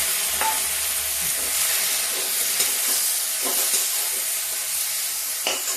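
Onion and tomato go into dal frying in a pan, giving a loud, continuous close sizzle with faint scattered stirring clicks over the top and no voices.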